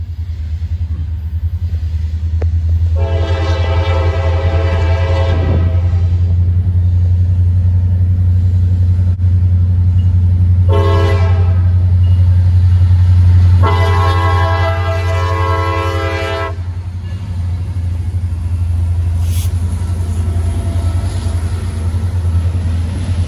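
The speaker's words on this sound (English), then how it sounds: "CSX T4049 and EMD SD40-3 is charging in the lead with CSX" A southbound CSX grain train led by an EMD SD40-3 locomotive on the Abbeville Subdivision near Hull, Georgia, with a deep, loud engine rumble throughout and three long horn blasts, the middle one shorter, close by.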